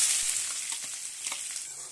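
Chopped onions fry in hot oil in a pan for masala dosa, giving a close, steady hissing sizzle with light crackles throughout and no one speaking.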